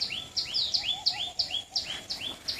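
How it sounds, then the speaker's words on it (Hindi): Birds chirp repeatedly in a desert rock park, quick rising high-pitched notes in a steady rhythm, close and clear over faint background hiss. "और चिड़िया कितनी चहचहाती है, आवाज देखिए चिड़ियाओं की"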